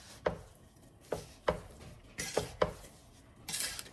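A spoon stirs orange jam boiling in a pot over medium-high heat, giving several sharp scrapes and knocks against the pot at an uneven rhythm, close and clear, with a soft hiss near the end.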